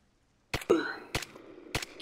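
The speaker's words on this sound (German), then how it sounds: "Irgendwo habe ich noch Schüsse." Gunfire in the game Arma 3, three sharp separate reports spaced about half a second apart with a short echo after each, moderately loud against quiet.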